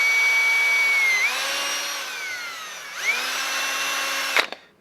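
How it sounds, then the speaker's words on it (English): A power drill whines loudly at close range, its pitch dipping twice as it bites into leather for a knife scabbard, then cutting off abruptly at the end. "Now I've got to drill my holes."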